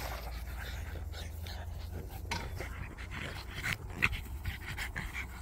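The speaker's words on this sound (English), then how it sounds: "I'm going to be posting up more and more updates on these dogs" Several dogs panting nearby, a quick, breathy rhythm that continues steadily with an occasional faint whimper, and someone speaking at moments in the background.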